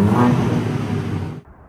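A BMW G80 M3 Competition with factory resonators and muffler gives a brief, fairly quiet engine and exhaust rumble that cuts off abruptly.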